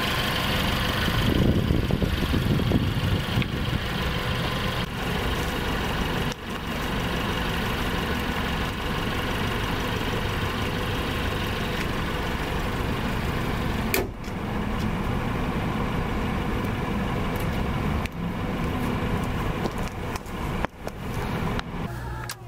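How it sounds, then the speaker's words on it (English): Mercedes-AMG CLA 45 Coupe Edition 55 from 2023, its 2-liter turbocharged inline-four idling with a steady low rumble throughout, close and fairly loud with no voices. "Very nice engine back here."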